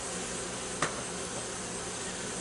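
Honey bees buzz around an open hive in a dense, steady hum close by, broken once by a brief sharp click.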